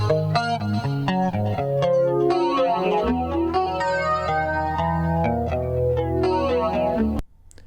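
Layered musical notes and chords run through Eventide delay and reverb effects, with repeats and washy tails stacking up, then cut off abruptly near the end.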